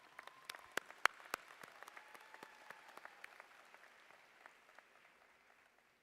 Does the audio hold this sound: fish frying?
no